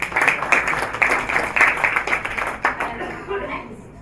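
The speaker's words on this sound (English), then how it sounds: "So round of applause for Pippa." Audience applause for a panelist at a business academy launch event, steady clapping blended with a voice speaking over it, fading slightly toward the end.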